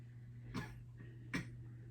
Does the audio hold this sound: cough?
yes